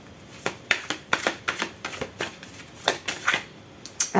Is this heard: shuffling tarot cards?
yes